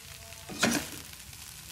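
Cabbage and bean sprouts hit a pan of softened carrots for Semarang spring roll filling, giving a brief burst of loud sizzling that settles into a steady low frying hiss.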